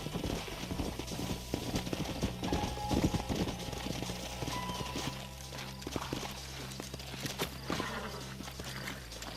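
Horses' hooves clip-clop in the Wild West video game Red Dead Redemption, a steady run of near hoofbeats that continues throughout with faint game ambience behind.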